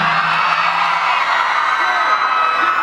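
Concert crowd at a hip-hop show in Houston, a steady dense roar of cheering with scattered whoops and yells, loud and continuous throughout.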